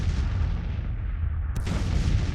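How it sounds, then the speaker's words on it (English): Artillery fire in the Civil War - Rebels battle game, a continuous low rumbling barrage with a sharper crack near the end, dense and sustained throughout. "Artillery."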